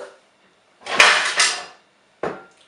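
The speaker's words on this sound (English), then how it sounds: "also a frying pan. I need a big one." A big frying pan is handled in a home kitchen: two separate metallic clatters and scrapes, the first longer and louder, the second a brief clank, close by with quiet gaps between them.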